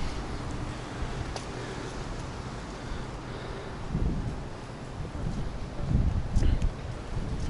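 Gusty wind buffets the microphone on a City of London street, a continuous low rumble that swells louder in the later gusts.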